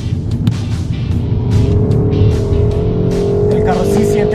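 A BMW 128ti, the brand's front-wheel-drive sport hatch, accelerates into a U-turn, its engine note rising and climbing in pitch under someone talking over it close to the mic.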